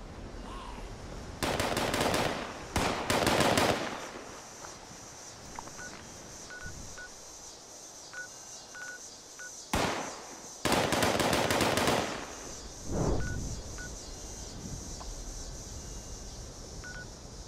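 Gunfire in Fallout 76, several loud bursts of rapid automatic fire spread over the stretch, with sharp single shots and small electronic beeps between them.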